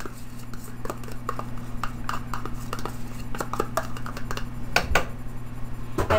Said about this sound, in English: I'm stirring the millet so it doesn't burn here.